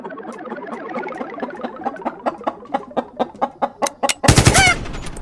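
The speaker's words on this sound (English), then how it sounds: "Kill that motherfucking rooster chicken" A rooster crowing woven into an electronic music track, a rhythmic series of clucking stabs building in loudness before a sharp, bright crow bursts out over heavy bass near the end.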